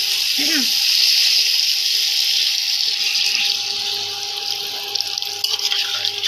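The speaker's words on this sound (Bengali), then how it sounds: "এবার জল দিয়ে দেবো" Water pours steadily into a pan of soybean curry, a continuous close rushing splash that runs the whole time, with a voice heard briefly over it.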